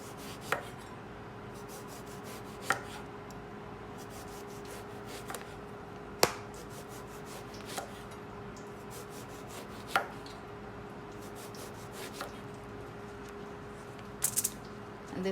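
A knife slicing through baigan (eggplant) on a board, sharp, evenly spaced cuts every couple of seconds over quiet soft rubbing, close and fairly faint, with no talking.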